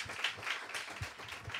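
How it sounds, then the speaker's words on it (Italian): An audience at a live podcast recording in a club applauds the venue, a soft, fairly distant patter of many hands clapping at a steady rate. "Fategli un applauso a questo posto."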